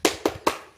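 A classroom of students doing the rhythmic 'tepuk semangat' clap, three sharp, close hand claps in quick even succession, loud and alone without talk.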